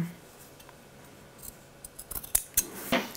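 Scissors snipping small notches into the seam allowance of a sewn blouse or dress at a corner, a few sharp close clicks near the end after a quiet start.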